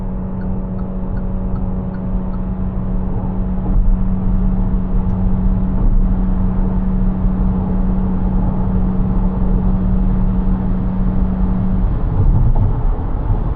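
Inside a Geely Starray EM-i 2026 hybrid (260 HP) at night, the petrol engine drones steadily while accelerating uphill on an empty battery, a constant in-cabin hum with a sustained tonal whine and no talking.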